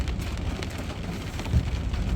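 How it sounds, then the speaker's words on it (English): Heavy rain pours on a job site during a thunderstorm, a dense, steady wash of close rainfall with low rumbling underneath and no talking. "at least the rain's backing off"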